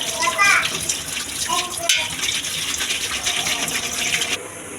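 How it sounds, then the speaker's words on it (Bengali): Water runs and splashes steadily while small kachki fish are washed by hand in a container, with close gushing and sloshing throughout. Brief swirling bursts come near the start. "দেখুন মাছটা এবার ধুয়ে নিচ্ছি আমরা ভালোভাবে।"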